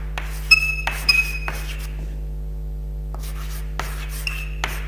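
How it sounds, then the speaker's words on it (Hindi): A marker squeaks and taps against a glass board while a history lecturer writes on it during a lesson on the Mughal period. The short scratchy strokes come in bursts with pauses between them, and a steady electrical hum runs underneath. "मैं जहांगीर में लिख देता हूं"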